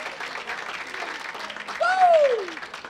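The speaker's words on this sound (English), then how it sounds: "Please start clapping your hands right now for my man, Mr. Joe Yannetty!" A comedy club audience applauds a comedian as he is introduced, steady clapping under a loud whooping cheer that rises and falls near the end.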